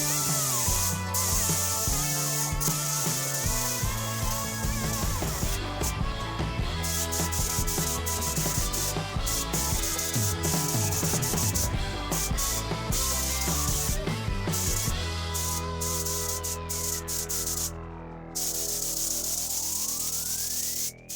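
Spray gun laying a second coat of primer onto a Mazda Miata body during restoration, a continuous close hiss with rattling, tool-like clicks and rubbing layered throughout, easing slightly toward the end.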